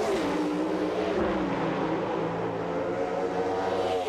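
Pro Stock drag race cars from the Drag Racing '99 video game, a loud sustained engine roar climbing in pitch as the cars accelerate down the strip, with no talking.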